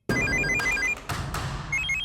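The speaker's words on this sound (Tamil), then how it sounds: "அந்த பிரகாஷ் தான் ஃபோன் பண்றான்" A telephone rings in a domestic scene from a Tamil TV serial: a warbling electronic ring tone repeats in short bursts across the whole moment, fairly loud and close, with no talk over it.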